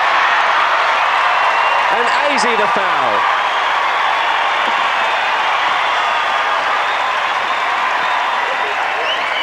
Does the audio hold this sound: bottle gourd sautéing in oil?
no